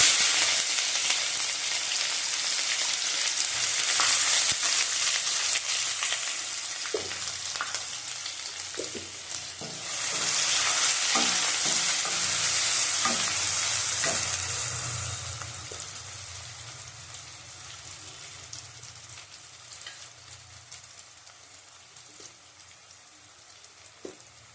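Chopped onions hit hot oil in a pan, bursting into a loud, bright sizzle that crackles for a while with occasional stirring clinks, then settles into a softer, steady fry with no talk.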